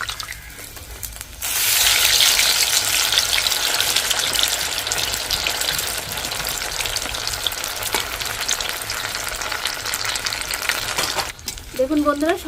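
Egg and potato snacks sizzle loudly in hot oil as they are turned, with a steady crackling fry that swells after a quiet start and drops off near the end, followed by brief faint clatter.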